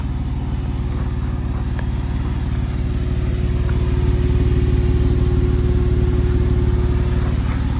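Porsche 911 997 Carrera 4S cabriolet with Tiptronic and quad exhaust idling steadily, a deep even flat-six rumble held close and constant with no change in revs.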